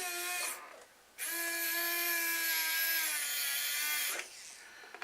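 Small cheap cordless drill driving a screw into a model kit, high whining motor tone rising in pitch, a brief burst, a pause, then a longer sustained run before stopping, close and clear with no talking.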